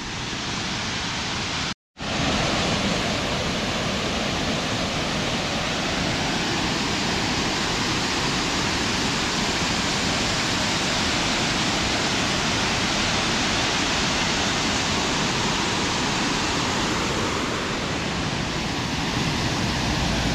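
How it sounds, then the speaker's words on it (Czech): Broad, unbroken roar of Lúčanský waterfall in Slovakia, heard close and loud, filling the whole stretch apart from one momentary dropout near the start. "Vidět v plné kráse takový vodopád."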